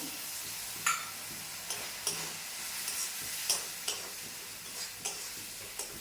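Turmeric spice paste loosened with a little water fries in a pan with a low, steady sizzle, punctuated by several sharp clicks and scrapes of stirring at irregular intervals, close by and without voices.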